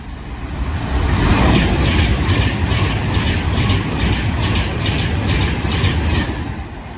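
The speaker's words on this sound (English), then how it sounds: "the next train to pass by will be another Pendolino" A Pendolino train roars steadily through Harrow & Wealdstone or Watford Junction station, a loud continuous rush with rhythmic wheel clatter over the rails, building at the start and fading slightly at the end, with no voices.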